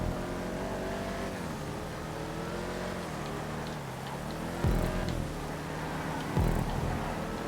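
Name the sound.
Clique cars racing in GTA 5 video game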